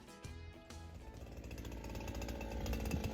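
A brush cutter fitted with a four-blade mulching blade cuts overgrown grass in a plum orchard, a steady high-revving buzz with harmonic whine that grows gradually louder and more ragged as the blade bites into the growth.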